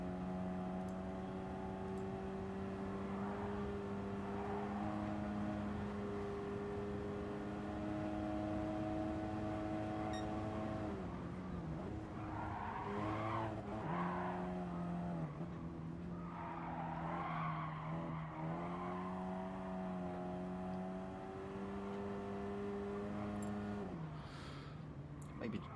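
A Ford Focus race car laps the Goodwood circuit, its engine droning loud and steady with gear changes and brief tire squeal through corners; voices talk over it at times.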